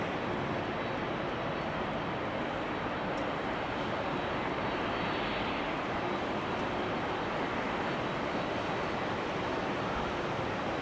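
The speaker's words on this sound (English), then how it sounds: "we have a TUI 767-300, which is also coming this way" An airliner roaring at rainy Amsterdam Schiphol Airport, a loud, steady, broadband engine rush that fills the whole stretch without pause, heard in the open air.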